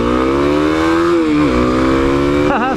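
Kawasaki KLX300 2021 dual-sport motorcycle accelerating hard from a standing stop in first gear, a loud close engine note climbing in pitch with a quick gear shift midway and another at the end.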